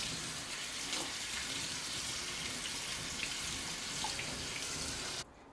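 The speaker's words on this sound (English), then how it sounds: "I'm going to even rinse off a little bit more." Water running steadily from a faucet over boiled rice in a strainer, a continuous close splashing rush that cuts off abruptly at the end.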